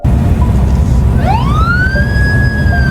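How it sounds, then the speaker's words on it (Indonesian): A police car siren rises and wails a single loud sweep that starts partway through, sounding over a steady low rumble of traffic. "sirene polisi terdengar di belakangnya"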